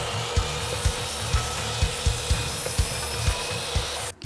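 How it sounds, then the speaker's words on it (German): A miter saw cuts clamped wooden parts in a workshop. A steady motor hum runs throughout, broken by regular low knocks about every half second, and it cuts off abruptly at the end. "Und dann geht es immer ab in die Kappsäge."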